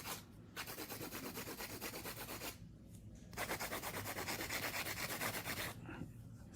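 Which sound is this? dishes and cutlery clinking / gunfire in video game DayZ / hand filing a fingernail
hand filing a fingernail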